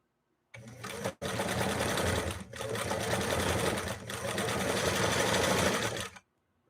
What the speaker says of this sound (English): 14 ounces of leather, laying down the widest zigzag that this 328K can generate.